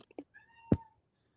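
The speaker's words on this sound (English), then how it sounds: "Oh, that is just my cat." A house cat gives a short, close meow after a couple of faint clicks and rustles, one clear rising cry that fades quickly into quiet.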